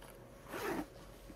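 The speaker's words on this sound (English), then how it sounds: "Zipper is moved so perfectly, guys." A zipper on a luxury bag is drawn once in a quick, close, quiet zip lasting under half a second, with faint room tone around it.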